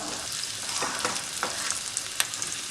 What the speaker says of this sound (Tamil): ஒரு வாட்டி நல்லா வதக்கிக்கலாம்.